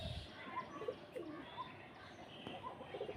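Pigeons at a home pigeon farm cooing in soft, repeated throaty phrases, fairly close but low in level, over a quiet hiss of background noise.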